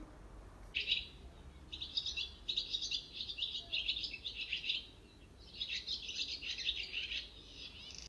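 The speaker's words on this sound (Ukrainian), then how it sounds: "Так, це спів ластівки." A barn swallow twitters in quick, chattering high-pitched bursts, several phrases in a row with brief gaps, fairly near and without any talking.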